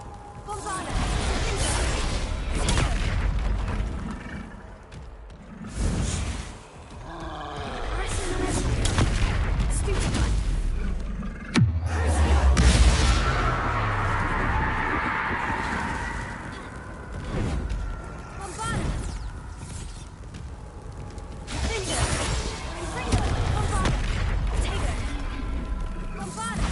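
Explosions from a Bombarda blasting spell boom again and again, each heavy blast followed by rumbling and crashing debris, while voices call out between the bursts.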